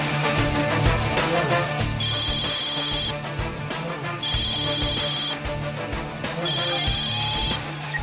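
A telephone rings in three repeated electronic bursts with pauses between, set against background music and some talk.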